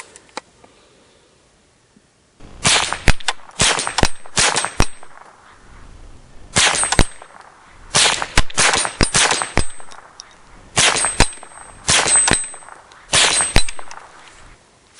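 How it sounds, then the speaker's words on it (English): A .22 rifle fires repeated shots at a Do-All Outdoors Blast Back steel paddle target, each sharp crack followed by a bright metallic clang, coming in quick close clusters over a quiet outdoor background. "Alright guys, I've shot 10 rounds at it."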